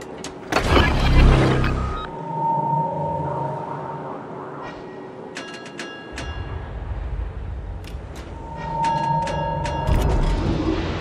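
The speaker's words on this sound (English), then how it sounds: "Engine boost activated" Engine boost kicking in on a Småland warship in World of Warships: a steady mechanical whir with tonal hum starts abruptly and holds, swelling again near the end, amid other game effects and no talk.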